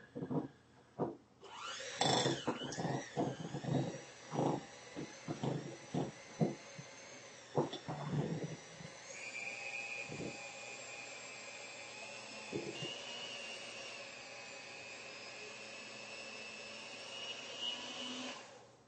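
An electric mixer whirs through cinnamon roll dough, starting with uneven loud bursts and then settling into a steady close drone.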